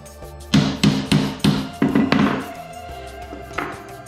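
Hammer blows on a low-tech rivet dimpler, dimpling aircraft sheet metal while building a Van's RV-7A experimental airplane: about six sharp, loud metallic strikes in a steady rhythm, then fading ringing with a faint later tap.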